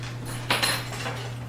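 A spatula and metal kitchen utensils handled near a saucepan while making dark cherry bars, giving a couple of quick, light clinks over a steady low hum.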